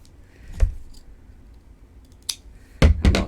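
Scissors snip crochet yarn on a Christmas ornament, a single crisp cut followed by a quick pair of sharp snips close up.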